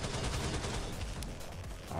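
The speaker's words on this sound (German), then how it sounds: "Den heftigen Schuss aktiviert." Heavy gunfire in the shooter Shadowgun War Games, a dense, continuous roar of shots and blasts filling the whole moment, loud and close with no pause.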